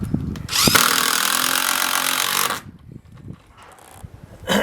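A power drill drives a 3-inch screw into a 2x4 for a raised bed, a loud, steady whirring burst lasting about two seconds that stops abruptly, followed by quieter handling clatter.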